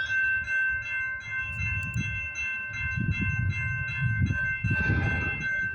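A CN freight train rolls past on the Dundas Subdivision, low rumbling pulses of wheels and cars under a steady tonal whine, moderately distant, with a brief higher burst near the end.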